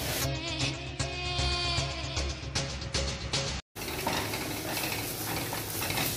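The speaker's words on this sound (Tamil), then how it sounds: "ஸோ போட்டு நல்லா வதக்க" Onions, tomatoes and dried chillies sauté for a Chettinad country-chicken curry, with loud continuous frying hiss and stirring scrapes, briefly cut off by a short gap before the sizzle resumes.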